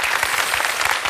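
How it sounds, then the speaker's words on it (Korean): Warm audience applause at a Korean talk concert, dense and steady from start to finish, filling the hall at close range with no voices over it. "응원의 박수 부탁드립니다"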